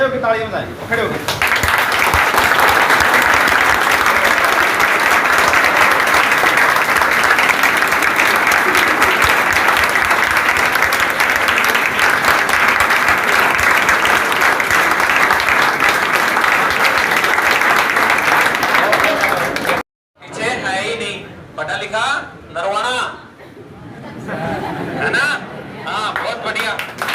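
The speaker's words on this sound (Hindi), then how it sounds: "सुनो भाई, एक बार सभी खड़े होकर तालियां बजाएं" An audience at an academy event rises to its feet and applauds, a dense, sustained roar of clapping for about twenty seconds, then breaking into scattered claps and murmuring chatter.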